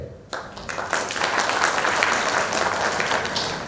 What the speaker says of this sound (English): Big claps for that.